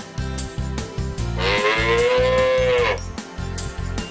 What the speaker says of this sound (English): Is it a cow?